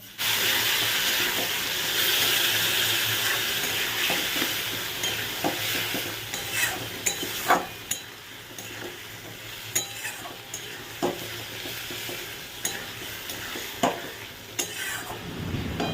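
Masala of tomato, ginger and green chilli frying in a pan for a fish curry, with steady sizzling and repeated scraping strokes of a spoon stirring, close and continuous.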